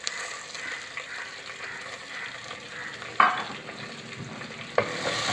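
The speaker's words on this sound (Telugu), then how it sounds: "ఉల్లిపాయ కూడా ఈ విధంగా వేగాల." Chopped onion fries in hot oil in a pan and is stirred, giving a steady close sizzle with a couple of sharper scraping clinks from the stirring and no talk.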